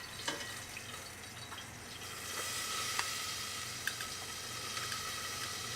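Blanched green beans sizzle in a hot pan with a steady crackling hiss, scattered pops and stirring clicks, close and fairly quiet with no talk.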